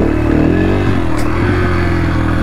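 A TTR dirt bike revving in a backyard during wheelie practice, its engine note loud and close, rising then wavering briefly.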